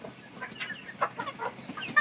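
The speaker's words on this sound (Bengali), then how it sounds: "দর্শক এদের দেখতে পাচ্ছেন, এগুলো আসলে প্রত্যেকটা মোরগ মুরগি" Egyptian Fayoumi roosters and hens on a farm cluck in short, irregular bursts close by, with several birds calling over one another.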